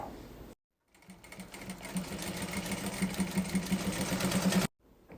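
A sewing machine runs a short stitch through plastic sheet for a 3D painting case craft, its steady motor hum and rapid needle chatter building in speed, starting and stopping abruptly, close and alone.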